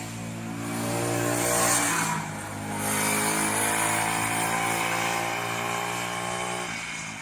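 A new motorcycle revs and rides past outside, its engine rising loudly, dipping briefly, then surging again before slowly fading, with no talk over it.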